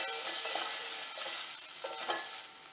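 A tomato sautéed and stirred in a pan for sambar gives a continuous bright sizzle with a few soft stirring strokes, close and without talk.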